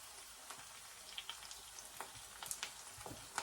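Onions frying with pork belly adobo in a pan, a steady crackling sizzle with scattered sharp pops and spits throughout, no voices.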